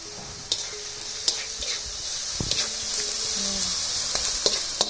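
Sweet soy sauce poured into tempeh fried rice sizzling in a hot pan, a steady bright frying hiss with a few soft clinks and stirring knocks throughout, alone without talk.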